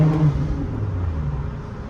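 A straight-piped Nissan Altima exhaust drones in a low, rough rumble in New York traffic, heard as a brief, sustained engine tone without a clear rev spike.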